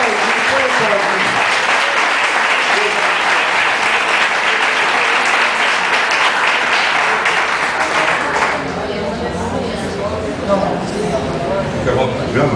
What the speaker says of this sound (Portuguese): com as mãos aplaudir o Senhor